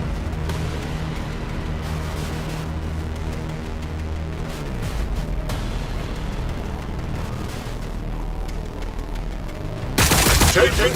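Dense battlefield gunfire from Warhammer 40k Battlesector rattles continuously in rapid bursts and booming volleys, loud and close, with a heavy explosive blast near the end.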